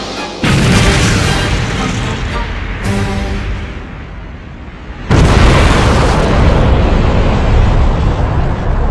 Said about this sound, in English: Feast your eyes on Super Vegeta's Big Bang Attack!